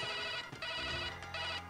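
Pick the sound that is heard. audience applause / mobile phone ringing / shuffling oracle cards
mobile phone ringing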